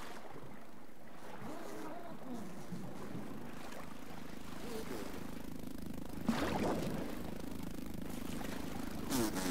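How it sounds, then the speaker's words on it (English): A mosquito in the survival video game Grounded gives a steady, droning buzz that holds for the whole stretch, blended with ambient game sounds near water and a brief louder rustle partway through. "Sounds like a mosquito."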